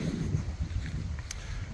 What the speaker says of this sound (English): so it's very, very windy here